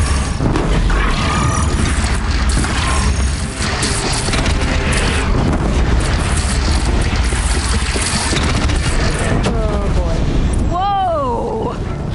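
In Horizon Zero Dawn, a bridge is shot down and collapses with a sustained, loud rumbling crash, mixed with game voices and music, and ends in a few sweeping tonal effects.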